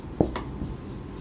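A pen or marker writes on a board in a physics lesson, making one short scratchy stroke followed by faint tapping. The sound is close but quiet and brief.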